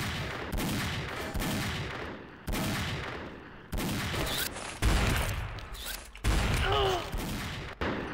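Gunfire and explosions in the shooter game XSHOT, a sniper match, arriving as separate bursts of shots and booms with short gaps between them, moderately loud, with no talking.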